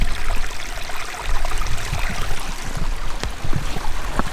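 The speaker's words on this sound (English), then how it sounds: "There's water flowing through it." Water runs steadily over and through rocks along a moorland river near old mine pits, a continuous close rushing and trickling wash with a few brighter splashes, no voices.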